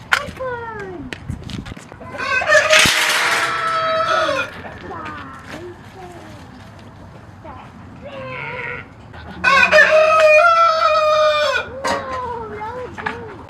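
Chickens clucking and a rooster crowing at a chicken barn, with loud close crows and scattered clucks over several seconds, under occasional nearby sounds.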